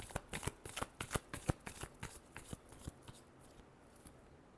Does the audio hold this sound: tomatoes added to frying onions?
no